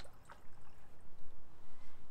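White vinegar is poured into a plastic spray bottle for a homemade glass cleaner, a soft, close liquid gurgle in short uneven pulses, quiet and alone.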